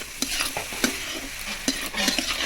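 A spoon stirs cooked vegetables with salt in a pan for momo filling, with repeated scraping strokes and a steady soft sizzle, close and fairly loud, no voices.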